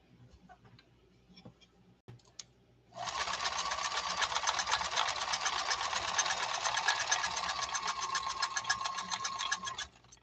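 A 1970s Japanese Kenmore 1231 sewing machine runs steadily for about seven seconds, its fast, even stitching rattle loud and close after a few faint clicks and a brief silence.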